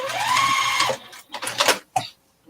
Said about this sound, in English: I always back stitch at the corners just because I'm scared I'm gonna cut it by accident.